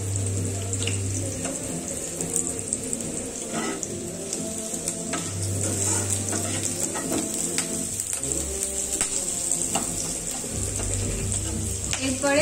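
Dried red chili frying in hot oil, a steady loud sizzle and crackle with scattered pops and a few clinks of a utensil against the pan, continuous throughout.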